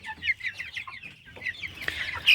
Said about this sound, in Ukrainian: так підросли наші бройлерята Рос 708. Теж надзвичайно ручні.